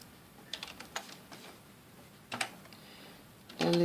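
Scattered keystrokes on a computer keyboard as Arduino code is typed, a few isolated taps and short bursts close by, quiet between them, with a louder clatter at the end.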